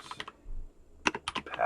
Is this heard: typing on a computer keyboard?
yes